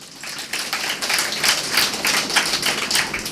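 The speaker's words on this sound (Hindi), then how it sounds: "अब तालियां बजा लो भाई" Dense, steady applause from an audience at a spiritual discourse on the Bhagavad Gita, rising quickly to a full, even roar of many hands clapping together and holding throughout.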